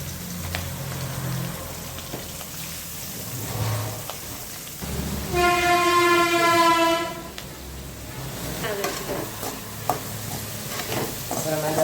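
Steady sizzling as onions fry in a pan for egg curry, with a brief clatter of stirring and a louder hissing stretch midway, no voices.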